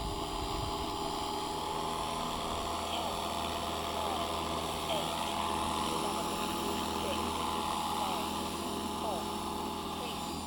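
A Hughes MD 500E helicopter comes in to land in wind, with a steady, dense mechanical engine and rotor drone holding at an even loudness throughout.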